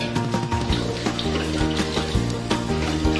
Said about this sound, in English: Gooza ne gatukulya ddala bulungi.